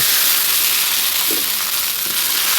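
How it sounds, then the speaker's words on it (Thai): Roasted Thai curry paste fries in a little oil in a pan, a loud, close, continuous sizzle with faint stirring scrapes, no voices. "ตั้งกระทะใส่น้ำมันลงไปเล็กน้อย เสร็จแล้วนำพริกแกงคั่วลงไปผัดให้หอม"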